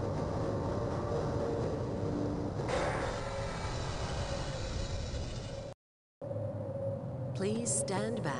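An automated tram in the Half-Life video game rumbles along with a loud, continuous mechanical drone. The sound cuts out briefly, then returns with faint tonal clanks and beeps near the end.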